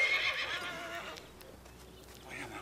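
A horse whinnies with a high, wavering neigh that fades off, followed by quieter stable noise and a faint second call near the end, during a snowfall.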